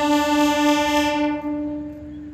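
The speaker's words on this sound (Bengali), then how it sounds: "আমার সামনে দাঁড়িয়ে রয়েছে হচ্ছে ডাউন জগন্নাথ এক্সপ্রেস, যেটা হচ্ছে পুরী থেকে শালিমার যাচ্ছে এই মুহূর্তে" A diesel locomotive horn on the Down Jagannath Express from Puri to Shalimar blares one loud, sustained tonal blast at a station platform, then fades into the low hum of the standing train.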